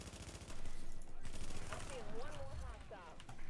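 Rapid machine-gun fire in The Division, steady and fairly close, with someone speaking over the shooting partway through.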